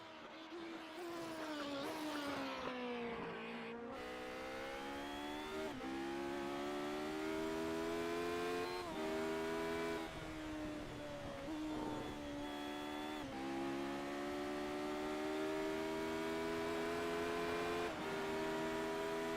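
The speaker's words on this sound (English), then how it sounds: "We'll have about 17 cars trundling into the horseshoe on lap number 1." SR8 race cars drive a qualifying session at Virginia, a loud sustained engine whine climbing in pitch through repeated gear changes and revs, with several cars blending and passing over about twenty seconds.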